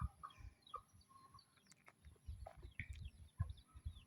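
Chickens cluck and chatter in short, soft bursts close by, with scattered higher peeps over a low murmur and no talking.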